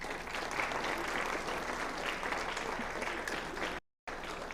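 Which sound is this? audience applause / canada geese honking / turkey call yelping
audience applause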